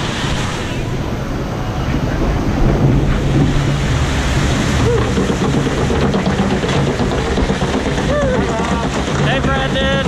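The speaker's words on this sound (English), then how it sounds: "I'm going to try out this log flume for a while." A continuous rush of splashing water and wind fills a rider's-eye view on the Zoom Phloom log flume at Morey's Piers. It is loud and steady throughout, with faint voices mixed in.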